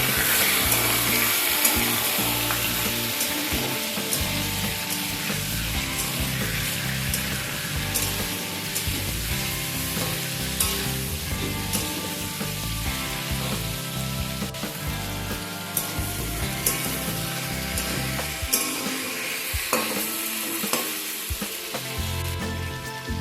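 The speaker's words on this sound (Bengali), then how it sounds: "চিকেন অ্যাড করার পর মিডিয়াম টু হাই ফ্লেমে চিকেনটাকে একটু ভেজে নিতে হবে" Medium-size chicken pieces frying on a medium-high flame, giving a loud, continuous close-up sizzle with intermittent stirring scrapes and clatter throughout, no voices present.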